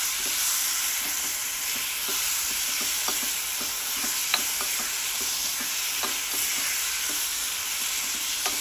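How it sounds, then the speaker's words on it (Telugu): Onion chutney is stirred in a hot pan, a steady close sizzle with repeated scraping, clicking spoon strokes spread throughout, no talking. "పచ్చడి మొత్తం వేసుకోవాలన్నమాట. ఒకసారి ఇలా కలుపుకున్నామండి."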